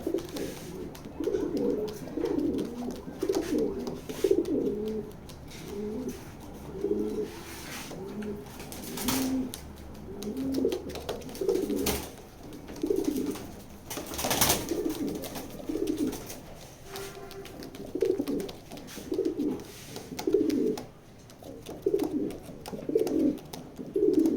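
Black racing pigeons coo repeatedly inside a loft, low rolling calls overlapping in a near-continuous chorus, with occasional sharp knocks and wing or movement noises among them.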